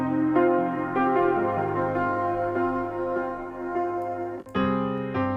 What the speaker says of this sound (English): upright piano, detuned it, made it sound like crap